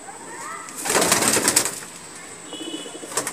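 A Madrasi pigeon coos nearby in a short throaty burst, with a brief rustle of movement and fainter calls trailing off afterward over a constant high hiss.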